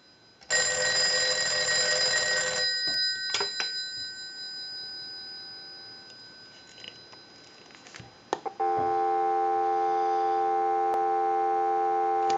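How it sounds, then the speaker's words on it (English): A Western Electric 302 rotary desk telephone's ring burst and a few clicks give way to a steady, continuous dial tone humming on at even volume. "we'll give you some dial tone"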